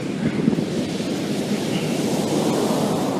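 Ocean surf crashing against the rocky Lost Coast headlands near Ferndale, California, a loud continuous roar of breaking waves mixed with wind buffeting the microphone, with no voices.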